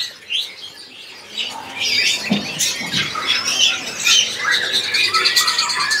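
Female robins for sale call busily nearby, a dense mix of chirps, whistles and harsh squawks overlapping continuously.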